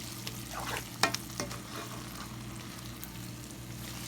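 Ground beef for chili con carne cooks in a pan, a quiet continuous sizzle with a few soft stirring knocks and scrapes near the start, no talking.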